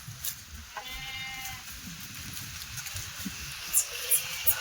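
A Kathiawadi goat gives a single faint bleat at a distance, quiet under low rustling and background noise, with a few sharp clicks toward the end.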